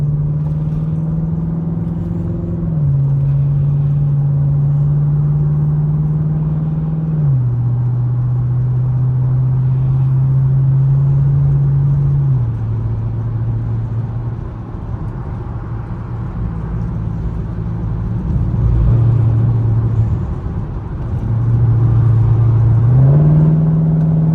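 From inside a Chevrolet Camaro SS on a late-night drive, the engine gives a steady, loud low drone. Its pitch steps up and down as the car shifts and changes speed, and no voices are heard.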